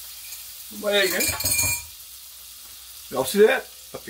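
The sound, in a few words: egg frying in a pan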